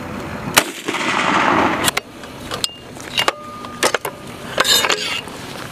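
A Carl-Gustaf M4 recoilless multi-role weapon fires outdoors. Sharp, loud reports are followed by rolling echoes, with several distinct bangs spread across the clip and no speech over them.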